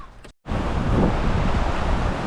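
A strong, cold wind buffets the microphone at Virginia Lake in the Eastern Sierra, a loud roaring rush that cuts out for a moment before surging back continuously.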